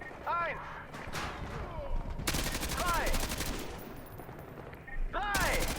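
Gunfire in Call of Duty Modern Warfare 2 Remastered comes as bursts of rapid automatic shots in several loud volleys, mixed with whizzing effects and players talking between and over the firing.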